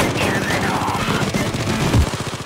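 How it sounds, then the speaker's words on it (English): Rapid machine gun fire rattles steadily during a Payday 2 heist, dense and continuous at close range with no pauses across the burst. "Sounds like someone's firing machine guns"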